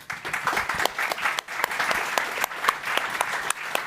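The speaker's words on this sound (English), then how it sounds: "I'd love for everybody to give them a round of applause." A conference audience gives a steady round of applause at a blockchain event, dense clapping throughout with a few sharper individual claps standing out.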